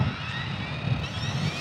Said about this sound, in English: Hit the takeoff button.